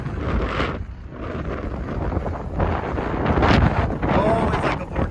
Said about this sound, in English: Ooh, that's windy. That's windy and cold right there.